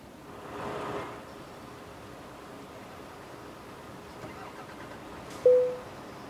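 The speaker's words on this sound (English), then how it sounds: "And then you hear all the engines just start back up." Truck engines starting back up during a convoy in the Euro Truck Simulator 2 multiplayer game: a soft broadband rumble swells briefly, then a steady faint engine hum continues and ends in a short sharp burst near the end.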